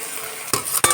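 Chicken kosha sizzles steadily in a pan while a spoon scrapes and stirs it twice, giving two short, close clattering strokes over the constant frying hiss.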